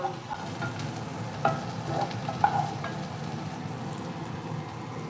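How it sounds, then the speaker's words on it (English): Steak fajitas sizzle steadily in a hot pan while being stirred, a continuous low frying hiss with a few soft scraping clacks from the utensil, close and moderately quiet, with no talking. "give this a little bit of a stir"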